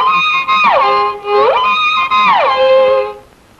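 A violin plays a single sustained phrase of sweeping bow strokes, made with both arms swinging together, the pitch gliding down and up in smooth slurs, loud and clear with no talk.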